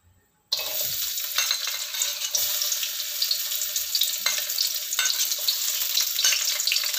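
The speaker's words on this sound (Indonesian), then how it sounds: "Mari kita tumis dulu bawang merah," Shallots, garlic, ginger, lemongrass, bay and lime leaves hit a hot pan for rendang, bursting into a loud, close, continuous sizzle after a brief quiet start, with stirring crackles throughout and no talk.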